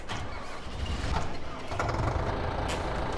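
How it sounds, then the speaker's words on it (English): Tractor engine in Farming Simulator 2015 on a snowy winter farm map, a steady low rumble running continuously at moderate volume with no talk over it. "We'll grab a tractor."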